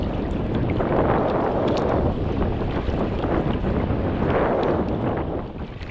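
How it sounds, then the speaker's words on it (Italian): Strong headwind buffets and roars continuously across the microphone during sea kayaking near La Scalaccia, with low rumbling gusts swelling and easing on open water. "il vento è girato e ora è contrario"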